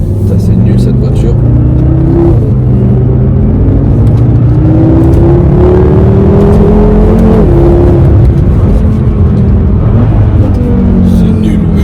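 A car drives and accelerates, its engine pitch rising and falling through gear changes, loud and close throughout, with people talking over it.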